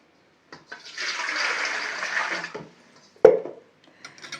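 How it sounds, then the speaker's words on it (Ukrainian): Warm water pours steadily into a bowl for bread dough for a couple of seconds, followed by a sharp clink and a few soft kitchen sounds. "беремо миску, вливаємо воду"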